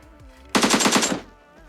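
An automatic weapon in PUBG Mobile Lite gameplay lets off a rapid burst of about seven shots, loud and close, that stops abruptly and leaves a faint ringing tail, with no voices.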